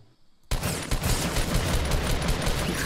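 Sustained rapid gunfire bursts in the Fortnite battle royale video game, loud and close, erupting abruptly after a brief quiet moment and continuing without pause.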